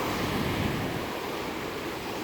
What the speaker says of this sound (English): So there's some big waves coming and going.